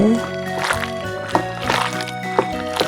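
Webfoot octopus being rinsed in water for a spicy stir-fry, with sloshing, splashing and dripping water in a continuous wet churn, a few sharper splashes standing out.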